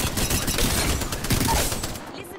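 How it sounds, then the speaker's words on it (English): Rapid bursts of gunfire aimed at the player in the Apex Legends battle royale game, dense overlapping shots that fill the whole stretch before cutting off abruptly, with no voices. "I'm getting shot at"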